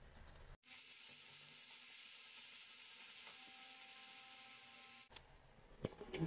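Onions and tomatoes frying in a pan, a sudden steady sizzle that starts after a brief pause and holds loud and even, then cuts off with a few clicks and clatters at the end.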